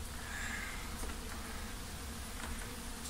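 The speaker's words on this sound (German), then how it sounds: "Millionen von Mücken." A huge swarm of mosquitoes buzzes inside an old World War II bunker on the Altrhein, a dense, steady whine filling the space without a break. No one speaks over the continuous close hum.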